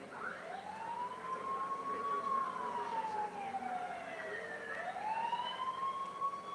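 An ambulance siren wails as the vehicle arrives at a school field, its rising and falling tone sweeping slowly up and down, fairly distant and steady, with no talking.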